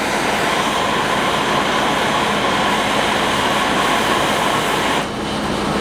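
A gas torch roars steadily while burning paint off a steel swage block stand, a loud, continuous broadband hiss throughout with a slight drop near the end.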